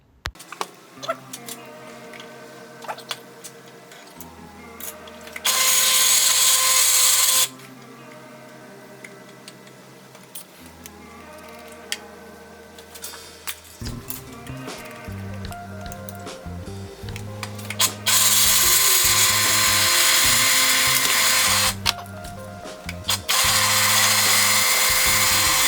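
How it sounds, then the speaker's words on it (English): A press drill bores into a Datsun 1200 steering shaft in a home workshop, its motor whining loudly in long bursts of several seconds with quieter gaps, humming and clicking between passes. "Figured I may as well buy my own press drill,"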